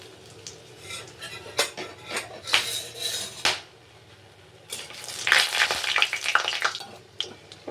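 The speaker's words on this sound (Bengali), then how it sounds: "এবার দিয়ে দেবো তেলে গোটা গরম মশলাটা আর একটা শুকনো লঙ্কা।" Whole garam masala and a dried chilli sizzle in mustard oil in a pan, with irregular metallic clinks and utensil knocks over a crackling fry that grows louder in the second half, close up.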